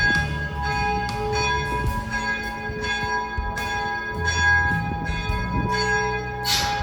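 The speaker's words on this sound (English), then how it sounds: "You hear the bells are ringing." Church bells of the Cathedral of St. Domnius in Split, Croatia, ring repeatedly around midday, overlapping clangs with long humming tones, loud and steady, with faint background noise beneath.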